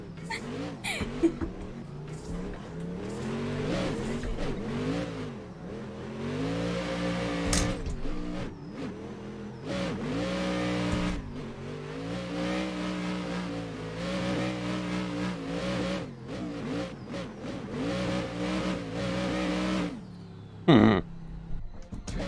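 A Nissan S15 in a drift racing video game screams through repeated revs, its engine note climbing and dipping in long harmonic sweeps with brief cuts between, loud and continuous.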